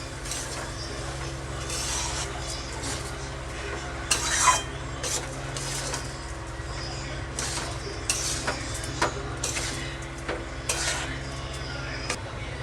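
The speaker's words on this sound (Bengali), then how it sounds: "দু 3 মিনিট নাড়বো, নেড়ে তারপরে আমি জল দেব।" Rice being stirred in a pot for muri ghanta, with soft scraping and clinks of a spoon against metal over a steady low kitchen hum, punctuated by a few sharper knocks.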